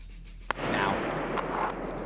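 A single sharp gunshot crack followed by a continuous rumbling barrage of distant gunfire and artillery in a war video game battle, loud and dense, with no talk.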